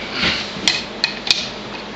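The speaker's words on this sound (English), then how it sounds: "You can take a hammer if you want. Give it a tap." A hammer gives three sharp metallic taps, spaced unevenly, on a part being fitted on a railroad wheel lathe, heard close over a low workshop background.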